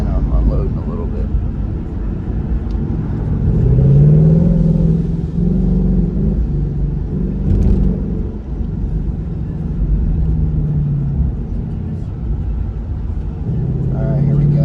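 A Ford Mustang GT convertible with a 10-speed gearbox accelerating on a highway, its engine droning and rising in pitch under steady wind rush, with someone talking over it much of the time.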